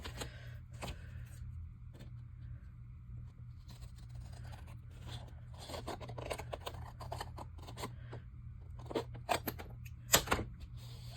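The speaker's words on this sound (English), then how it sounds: "Oh, that's really thick. I'm gonna need my scissor. Let's try the scissor." Quiet, close-up snips and scraping of heavy-duty scissors working through thick material for a folio, irregular cuts over a low steady hum.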